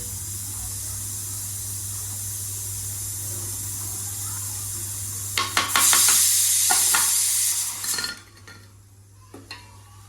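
Pav bhaji gravy with peas simmering in a pan, a steady hiss and bubbling, then a burst of louder sizzling and quick metal stirring scrapes before settling back down.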